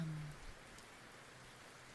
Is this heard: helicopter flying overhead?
no